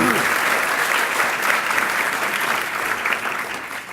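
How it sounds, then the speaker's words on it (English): An awards luncheon audience gives a round of applause to the Forest Hills caterers, a loud, sustained roomful of clapping that stays full and gradually eases off, with some voices mixed in. "let's also give Forest Hills a round of applause for the great meal"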